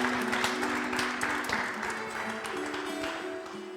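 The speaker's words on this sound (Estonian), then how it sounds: "aga teeme talle ikka aplausi." Audience clapping for a photo contest winner at an Estonian Independence Day event in Rae Cultural Centre, moderate steady applause from a seated crowd over a low sustained hum, tapering slightly.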